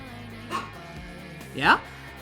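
A dog gives two short whimpering yelps, the second louder and rising, against a steady low background with indoor talk nearby.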